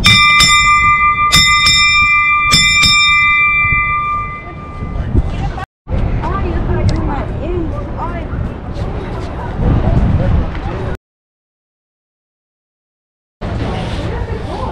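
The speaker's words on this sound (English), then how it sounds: "you gotta come here and ring the bell" A ship's bell rings at the San Diego Maritime Museum, struck several times in quick succession. Its clear metallic tones fade into outdoor crowd noise and nearby voices, followed by a brief gap of silence.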